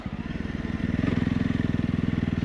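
A Honda CRF 300 Rally motorcycle rides off-road on sand, its single-cylinder engine thumping in a rapid, even pulse that grows louder as the throttle opens, heard close up with no talking.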